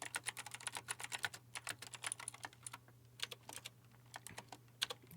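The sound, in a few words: typing on a computer keyboard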